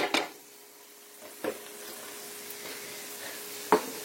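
Crumbled sausage cooking in a pot, a few separate scraping stirs of a spoon spaced over several seconds with a faint sizzle beneath, close and moderately loud, no voices.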